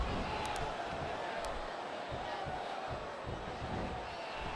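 Simulated arena crowd cheering in the wrestling game Smackdown vs Raw 2008 during a DX vs The McMahons match, a steady, moderately faint roar that sits behind the game's audio.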